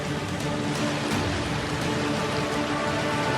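Monsoon rain falls steadily in a village area in Uttarakhand, a dense even hiss of drops on surfaces that holds at the same level, with no voices.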